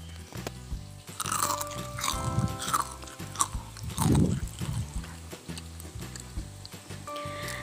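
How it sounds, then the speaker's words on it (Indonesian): Crispy fried mushrooms crunched and chewed close up in a home kitchen, a run of loud crackling bites and chews with short pauses between them, no talking. "Tuh suaranya kayak gitu ya guys pas aku makan."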